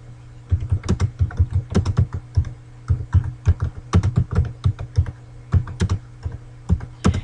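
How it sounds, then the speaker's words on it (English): Close, crisp clatter of a computer keyboard as data is typed into a spreadsheet, in irregular bursts of keystrokes with short pauses and no speech. "I want to go to the B2 location and type in my dependent variable"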